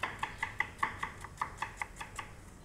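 A knife roughly dices potato on a board in an Indian kitchen, making a steady run of about a dozen crisp, evenly spaced chops, close and clear over quiet background.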